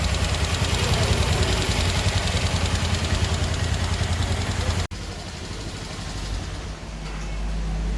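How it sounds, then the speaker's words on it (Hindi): A Hero Maestro scooter engine idles at an auto service centre, giving a steady, close mechanical drone that drops abruptly in level partway through and then carries on more quietly. "ये हो चुकी है बाइक स्टार्ट।"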